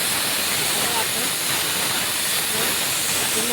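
Pressure cooker whistle venting steam while undhiyu cooks, a loud continuous broadband hiss holding steady throughout without a break.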